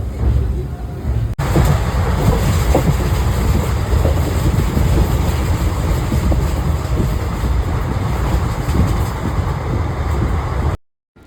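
A passenger train runs along the rails, a loud, steady rumble with rattling carriage noise heard from inside during the journey, while people talk faintly beneath it; the sound cuts off abruptly at the end.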